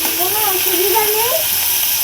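Onions and green chili fry in a pan while being stirred, making a constant hissing sizzle close by, with a voice speaking over the cooking.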